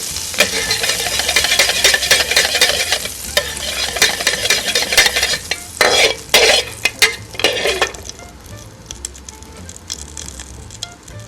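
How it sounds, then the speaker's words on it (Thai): Meat fries in a pan alongside oysters, giving loud continuous sizzling with busy stirring and scraping of a utensil against the pan that thins out toward the end. "ทอดกับเนื้อให้มันเข้าเนื้อกลิ่นหอมด้วยกัน"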